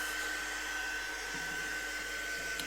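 A hair dryer blows steadily to dry a thick coat of silvery shimmer acrylic paint on an MDF moth plaque, giving a constant close whirring rush with a thin whine and no speech.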